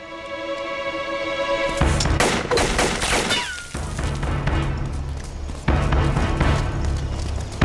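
Gunfire erupts in a drama scene: a clear tone gives way at about two seconds to a burst of loud, rapid shots, followed by a second volley near the end, all close and harsh.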